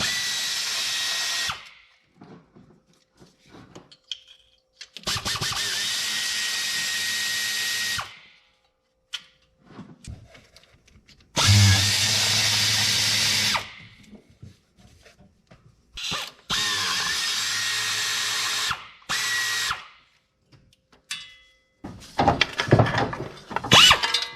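Power tool working a valve cover loose on a cheap old truck, whirring in several loud bursts of a few seconds each with silent gaps between them and ratchety clicks near the end.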